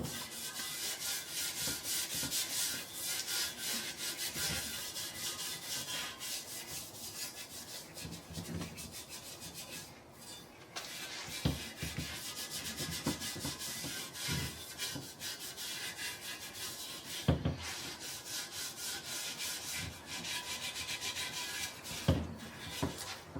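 A dirt bike frame being cleaned and smoothed by hand gives a steady, close rasping scrub that runs almost continuously. There are a few brief pauses and sharper strokes, and no voices.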